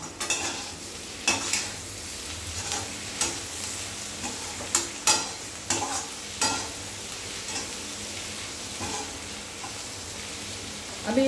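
Boiled potatoes stirred in a hot frying pan with a steady sizzle underneath and a series of sharp spoon scrapes and clinks against the pan at an irregular pace, close and fairly loud.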